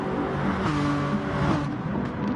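Ferrari Gr4 race cars roar in Gran Turismo Sport at Lago Maggiore, two engines revving hard and whining close together in a steady, continuous wail with no talk.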